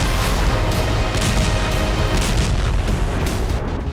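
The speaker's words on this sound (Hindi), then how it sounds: "हमास के लड़ाके ऊंची इमारतों से अचानक गोलियां चला रहे हैं" Dense, continuous bursts of gunfire and booming rocket fire from buildings in Gaza, a loud unbroken roar of overlapping shots and blasts with no talk.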